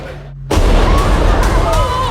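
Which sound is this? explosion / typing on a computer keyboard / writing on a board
explosion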